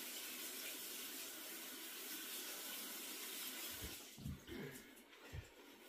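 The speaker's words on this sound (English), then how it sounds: "So we're gonna go ahead and wash our lettuce." Tap water runs steadily into a kitchen sink while lettuce is washed, a continuous rushing hiss that turns uneven near the end as the leaves are handled, with no talk.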